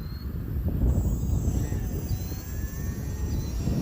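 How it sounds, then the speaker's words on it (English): An Aeroscout RC airplane flies in high wind, its thin electric motor whine drifting faintly overhead beneath a loud, constant rumble of wind buffeting the microphone. "Aeroscout is capable of handling these high winds."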